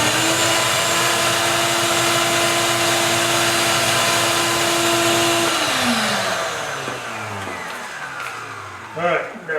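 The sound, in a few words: Hercules 12 gallon dust extractor switched on and running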